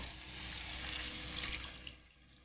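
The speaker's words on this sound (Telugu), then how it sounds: "వాటర్ వేసేస్తున్నాను." Water is poured into a pan of simmering fish curry, making a continuous close splashing pour that tapers off near the end, with no voices.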